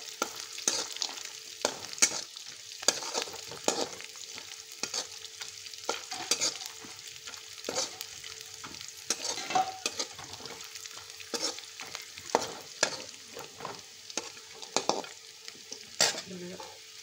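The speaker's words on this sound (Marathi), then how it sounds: "त्याच्यानंतर त्याच्यामध्ये हिरव्या मिरच्या, थोडे शेंगदाणे टाकलेले आहेत। शेंगदाणे चांगले लालसर होईपर्यंत परतून घ्यायचे।" Green chillies and peanuts sizzle softly in a pan while a spoon stirs and scrapes them again and again, a close, fairly quiet crackle with no talking.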